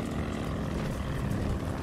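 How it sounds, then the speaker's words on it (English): Propeller aircraft engine droning steadily overhead in the World War II shooter Call of Duty Vanguard, a continuous low hum with no voices. "That's a plane!"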